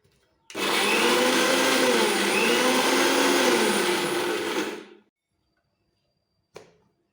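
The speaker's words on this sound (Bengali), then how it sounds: "এইভাবে পোস্তটা বেটে রেডি করে নিতে হবে একদম আঠালো করে" An electric grinder whirs loudly for about four seconds as poppy seeds are ground into a sticky paste, then stops abruptly, followed by a short clack after a pause.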